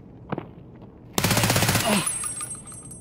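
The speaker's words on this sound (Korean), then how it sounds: "위에 쏜다, 위에 쏜다." Automatic rifle fire in Escape from Tarkov, a loud rapid burst of close shots lasting over a second and trailing into echo, preceded by a couple of faint distant cracks.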